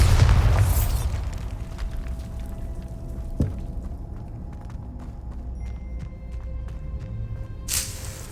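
Bombarda spell explosion in the video game Hogwarts Legacy: a loud booming burst at the start fades into a lingering rumble, followed by a sharp smaller thump and faint clinks.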